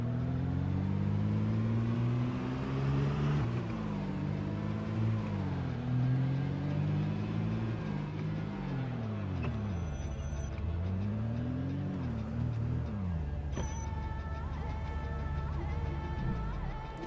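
A car engine in the zombie survival game Project Zomboid hums steadily and rises and falls in pitch as the vehicle drives and shifts, with a constant rumble throughout and no talking.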